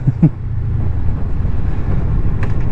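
Wind buffets the microphone while riding a Honda VFR800FE touring motorcycle on a windy, overcast day, a loud continuous low rumble with a couple of brief bumps near the start.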